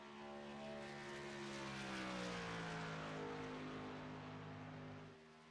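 Race trucks roar around Homestead-Miami in a sim racing truck series, a loud continuous engine drone with pitch sweeping down and up as the trucks pass, fading slightly at the end.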